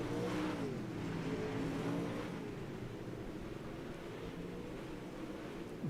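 Super Late Model race cars roar around I-55 Raceway in Pevely, Missouri, during a B main, a dense, steady engine drone with shifting pitch as several cars pass, loud and continuous without talk.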